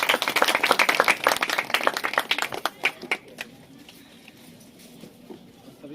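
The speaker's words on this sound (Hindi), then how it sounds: "जब वो खड़े होते हैं बड़ी आदर के साथ उनका हम ताली बजा के स्वागत करते हैं" A congregation at a Christian wedding claps in welcome for a preacher, loud and dense at first, then thinning out into scattered claps and fading to quiet.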